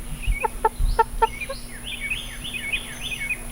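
Several 12-week-old chickens clucking in short repeated bursts, mixed with higher peeping chirps, close by over a low steady hum.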